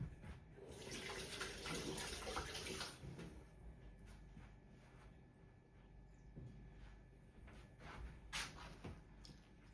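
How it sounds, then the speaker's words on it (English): Running tap water streams steadily into a kitchen sink as hands are washed beneath it, a close, continuous splashing rush with a brief clunk near the end. "Quickly wash my hands."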